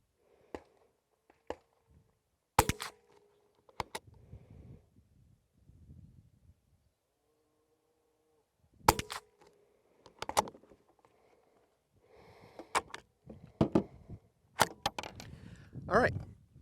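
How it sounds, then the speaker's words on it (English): A suppressed rifle firing a three-shot group with Federal Auto Match .22 ammunition while sighting in: a few sharp, well-spaced cracks, close and clear, with quiet handling noise and brief low talk between shots. "I'm going to shoot a 3-shot group"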